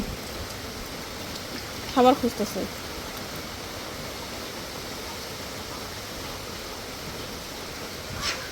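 Steady rain falling outdoors, a continuous soft hiss throughout, with a brief spoken remark partway through.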